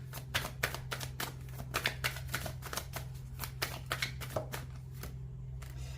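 Tarot cards shuffled and laid out on a table, a steady run of quick, close riffling flicks and soft slaps that continues without pause and without talking.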